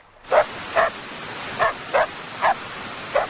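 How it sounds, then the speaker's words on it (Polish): Near a forest, a dog that looks like a wolf barks six times in a steady, evenly spaced series, each bark short and clear against a quiet background. "Gdzie jest właściciel tego psa? Może to wilk z tego lasu."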